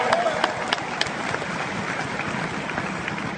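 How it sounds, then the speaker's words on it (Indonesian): An audience applauds at a Crown 3i Networks business gathering, producing a steady patter of many hands clapping at moderate volume, with a few sharper claps standing out early on. "Untuk itu tepuk tangan dulu untuk kita semua Bapak Ibu sekalian"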